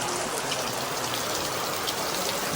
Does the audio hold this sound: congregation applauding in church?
no